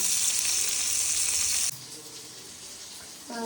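Masala cooking slowly over a low gas flame in a nonstick pan, a loud steady sizzle that cuts off abruptly partway through, leaving a quieter background with a faint tonal sound at the end.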